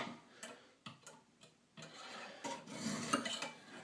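A Mini Griptilian knife blade is sharpened on a stone with quiet, close scraping strokes, a few short rasps at first and then a longer continuous grinding pass, with no talking.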